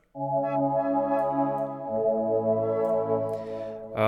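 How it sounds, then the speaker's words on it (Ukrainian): Soft retro synth pads in a melancholic instrumental play sustained warm chords, changing chord once midway and holding smoothly, steady and close with no voices. "Перший інструмент, який ви тут чуєте, це пади"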